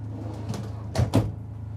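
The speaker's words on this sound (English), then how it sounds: "And then here I've got this deep drawer, and then I have another drawer here." A deep storage drawer in a Renegade Villagio 25 RBS RV slides and bumps, giving a few soft knocks and then two sharper thuds close by, over a low steady hum.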